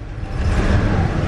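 A 1978 Ford Thunderbird with a carburetor engine idles steadily and fairly loudly, a continuous low rumble that holds without dying out across the short stretch.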